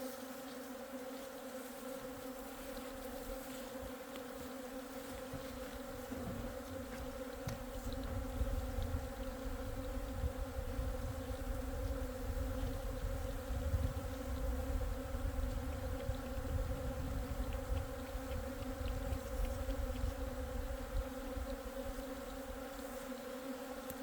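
Hornets buzz steadily around the entrance of a beehive in a continuous, dense droning hum that stays loud and close throughout, with no talking.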